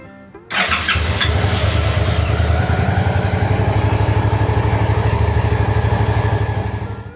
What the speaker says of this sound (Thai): เดี๋ยวลองสตาร์ทเครื่องดูอีกรอบ